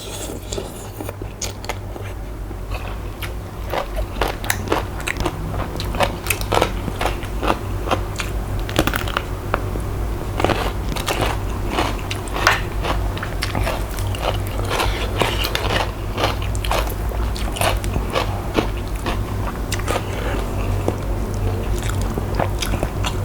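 Close, steady chewing and biting of som tam green papaya salad with grilled chicken and sticky rice, a continuous run of wet crunches and smacking bites with no talk.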